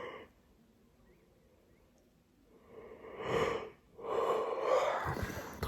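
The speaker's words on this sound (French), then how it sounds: "Et j'arrête pas de bailler." A French vlogger in a snowy, icy winter setting yawns repeatedly, faint breathy gasps building into two louder, drawn-out yawns close to the microphone, with no talk.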